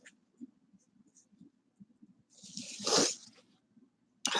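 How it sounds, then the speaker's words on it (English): A single sneeze bursts out midway through a quiet indoor stretch, preceded by faint shuffling and small handling sounds. "Oh, I gotta sneeze."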